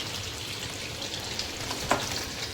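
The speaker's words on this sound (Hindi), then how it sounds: "तो यहाँ पे मैंने चिकन फ्राई करने के लिए रख दिया है" Chicken fries in a pan on a home kitchen stove, giving a steady, close hiss and sizzle throughout, with a small pop or spatter near the end.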